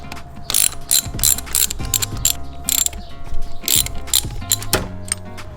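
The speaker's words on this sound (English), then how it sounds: "we're gonna pop off these two bolts, take the fuel roll off." A hand ratchet loosens the fuel rail bolts on a Nissan SR20DET engine in an S13, clicking in several quick bursts of pawl ratcheting with short pauses between strokes, close and clear.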